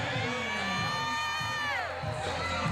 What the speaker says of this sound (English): they are really rooting and cheering for Reality Check